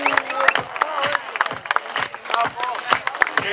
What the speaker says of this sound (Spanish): Fuerte el aplauso para el auto mejor personalizado